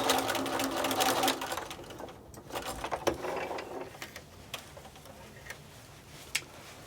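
Sewing machine stitching a seam on a hobo bag and then back stitching, a close rapid mechanical whirr that runs steadily before easing into slower, scattered ticks and clicks.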